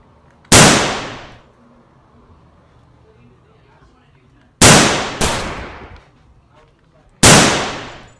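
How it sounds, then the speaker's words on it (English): Four loud, sharp pistol shots in a video game, each a sudden crack with a ringing decay, the middle two fired in quick succession, with someone talking faintly in between. "this pistol's sweet"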